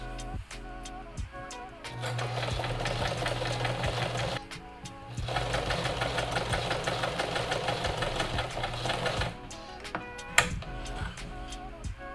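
A sewing machine runs a long-stitch temporary basting seam at a half-inch allowance on patio furniture fabric, whirring in two sustained bursts with a brief pause between, near and steady, then stopping.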